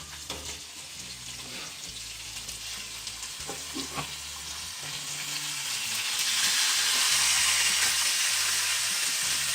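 Beef pieces frying in a pan as the base for a risotto with parmesan, a steady sizzle with stirring scrapes that grows louder and more intense toward the end, with no voices.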